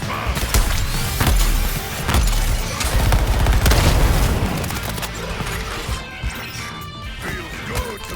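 Artillery fire in the video game Suicide Squad crashes and booms in dense, continuous volleys, loud and close, with heavy impacts overlapping a busy battlefield mix that eases slightly toward the end.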